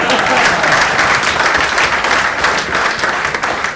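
Members' conclave audience in a hall at the Kanara Chamber, Mangalore, breaking into steady, dense clapping that fills the whole stretch at close, even loudness.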